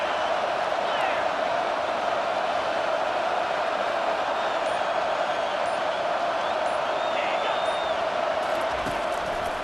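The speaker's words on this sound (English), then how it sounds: "listen to this crowd coming through" Stadium crowd in EA Sports College Football 25 roars as a sustained, dense wash of cheering throughout, with occasional whistles and whoops rising above the steady din.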